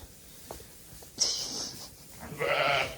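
Lambs bleat inside a lambing barn during a cold winter spell. Two clear, fairly close calls sound about a second apart against quiet barn ambience.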